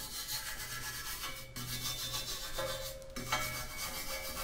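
Steady rasping brushing from fabrication work, a continuous scratchy rub with short breaks around the one-and-a-half and three-second marks, close and fairly quiet, with no voices.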